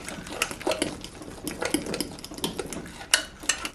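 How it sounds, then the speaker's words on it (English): A spoon works through almond flour banana bread batter in a bowl, giving quick, irregular wet slaps and scrapes in a busy rhythm, close and fairly soft. "I just have to mix this up really good."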